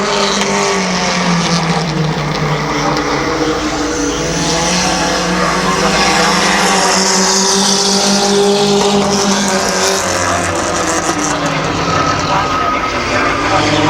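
Compact race cars roar around Midvale Speedway in a loud, continuous engine drone with shifting pitch as the cars pass, the dense racing noise holding steady throughout.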